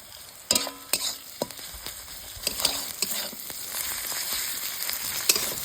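Ginger paste hitting well-fried onions in mustard oil in a kadai, starting with a sudden burst of sizzle and scattered clatters of stirring, then settling into a steady frying hiss.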